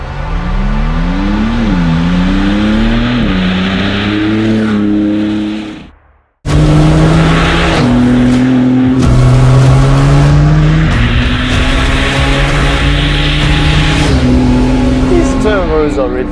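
Maserati MC20 fitted with a NOVITEC exhaust system revving repeatedly, close and loud, the engine pitch rising and falling in sweeping waves, with a brief silent cut before more sustained revs.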